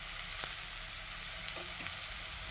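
Chopped garlic and onion frying in desi ghee in a pan, a steady close hiss and crackle that carries evenly throughout, with a couple of faint soft knocks and no voices.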